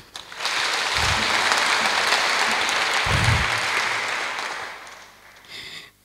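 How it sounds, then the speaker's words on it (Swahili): A church congregation at a women's prayer day service applauds, a loud sustained round of clapping that swells quickly and fades out after several seconds. "Tupige makofi."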